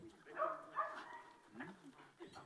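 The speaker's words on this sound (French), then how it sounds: "ce chien berger hollandais a été spécialement entraîné pour mettre hors d'état de nuit les malfrats" Dutch shepherd police dog, a two-year-old trained to subdue suspects, giving short whining yelps and vocal sounds at close range, mixed with background voices.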